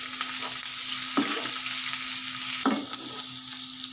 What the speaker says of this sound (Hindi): अदरक लहसुन को हमने 1 मिनट तक फ्राई कर लिया है